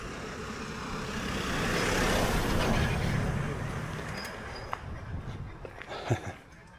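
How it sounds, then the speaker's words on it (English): Small dump trucks rumble past on a village road in Khe Ha, Ninh Binh, the engine noise swelling as one draws near and then fading, with faint clatter and knocks trailing after. "And little dump trucks."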